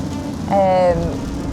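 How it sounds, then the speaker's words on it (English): Steady rain hissing and pattering throughout, with a brief whining tone rising over it near the middle. "It has not stopped raining, it's been non-stop"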